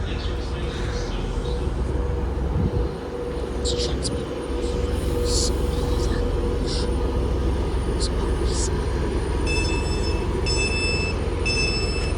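A nine-coach passenger train rumbles steadily through Stockport station, with low mechanical roar and occasional high wheel squeals and tones near the end, loud and continuous.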